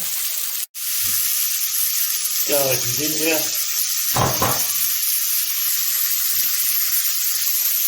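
Chestnut mushrooms added to garlic and ginger sizzle steadily in a hot pan over high heat, a loud continuous frying hiss throughout, briefly broken at the start, with a couple of short voiced bursts in the middle.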